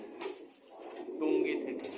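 A silver golden pigeon gives a short run of soft, throaty coos close by, a couple of low murmuring calls in quick succession against a quiet indoor background.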